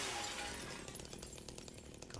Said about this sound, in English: even I can pop the window all cool style if I want to